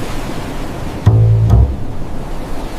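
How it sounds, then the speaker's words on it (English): Broadband ocean surf washes steadily throughout, with two sudden low thuds breaking in near the middle, in an AI-generated Google Veo 3.1 drone scene. "The sound of waves is spot on"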